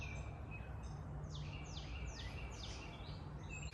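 Several birds sing and chirp outdoors on a quiet farm, repeated descending calls standing out clearly over a steady low hum, with no one talking.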